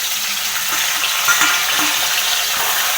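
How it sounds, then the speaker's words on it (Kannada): Tomato and onion frying in hot oil for a tempering, a loud dense sizzle with soft stirring scrapes throughout, close and continuous without any voices. "ಎಣ್ಣೆ ಬೆಚ್ಚಾಯ್ತು ಬೊಕ್ಕ ಒಗ್ಗರಣೆಗೆ ಟೊಮಟೆ ನೀರುಳ್ಳಿ ಬೊಕ್ಕ ಬೇಸೊಪ್ಪು"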